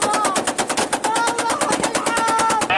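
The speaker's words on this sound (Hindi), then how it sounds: "ये आप देखिए कैसे यहां पर गोलियों की बौछार हो गई।" A burst of automatic gunfire from news footage of an attack in Yemen: rapid, evenly spaced loud shots rattling without pause, with faint voices underneath.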